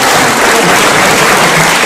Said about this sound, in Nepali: ताली पनि अलि ताली पड्काउनु पर्यो है